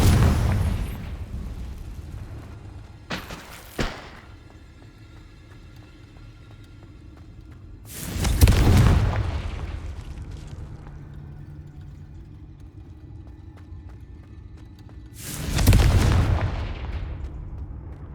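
Confringo fire spell explosions in the Hogwarts Legacy video game, three loud booming blasts spaced several seconds apart over a low rumbling background.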